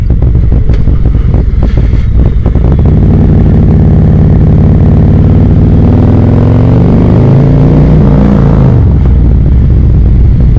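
A Harley-Davidson CVO motorcycle fitted with an S&S 132 stage 4 big bore kit rumbles loud and close. Its deep engine note swells and dips as the throttle is worked, and it stays continuous throughout.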